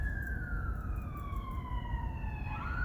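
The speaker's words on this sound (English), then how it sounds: "Excuse the siren." An emergency siren wails with a slowly falling tone, at moderate distance over low rumbling traffic noise.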